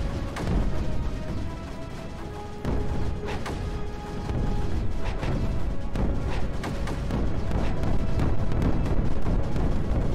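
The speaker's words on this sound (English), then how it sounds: "Listen to all those explosions." Dense, continuous rumbling explosions from the video game Creeper World 4, overlapping booms and crackles piling up into a loud, sustained roar with sharp bursts scattered throughout.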